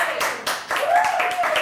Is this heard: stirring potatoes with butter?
no